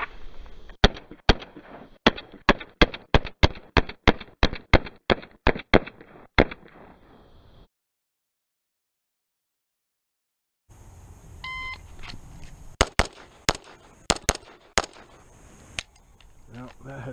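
Rapid pistol shots from an FNH FNX-45 in USPSA-style speed drills: a fast string of about fifteen sharp, loud reports, a pause in silence, then a few more shots with timer beeps amid outdoor range noise.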